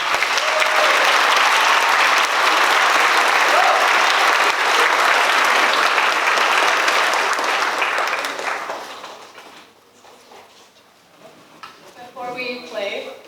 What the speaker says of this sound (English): One more round of applause for our 12s.